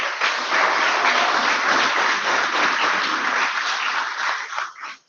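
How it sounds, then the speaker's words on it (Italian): Audience applause at a final awards ceremony, a dense steady wash of many hands clapping at full strength throughout, then thinning and fading out near the end. "Scaldiamo l'aria con un applauso subito."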